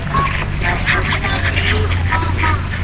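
Ducks quacking nearby in a steady chatter, with a low hum and background voices underneath.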